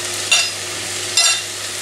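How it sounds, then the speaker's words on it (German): Teriyaki chicken legs and vegetables fry in a pan, a steady close sizzle broken by two brief louder clatters of stirring or food being added, with no one speaking. "So, es ist jetzt schon kurz angebraten, jetzt kommt der Rest rein."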